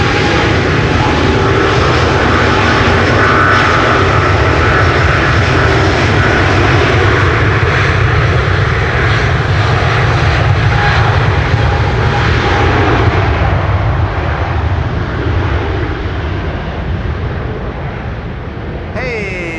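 A Delta Airlines jet takes off at Amsterdam Schiphol during a storm, its engines giving a loud, sustained broadband roar that fills the whole stretch and eases slightly toward the end, with wind noise and faint voices beneath.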